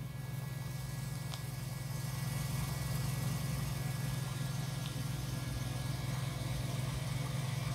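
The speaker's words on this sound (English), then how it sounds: "Now I got that nice electrical motor hum from that fuel pump" A steady electric fuel pump hum drones in a 2006 Scion xB, a low constant whine with faint engine idle beneath it, unbroken throughout.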